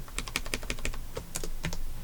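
Keys clatter in quick, uneven bursts on a computer keyboard while entering data into a database form, close and clear with no talking.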